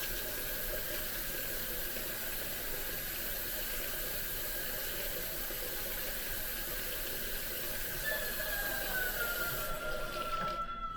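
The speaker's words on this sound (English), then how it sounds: "I'll turn the water off so you can hear me" Water runs steadily from a tap into a child's bath, a continuous moderate hiss with no talking, ending in a brief change near the end.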